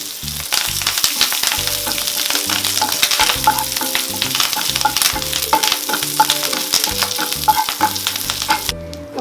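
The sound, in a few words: curry leaves frying in oil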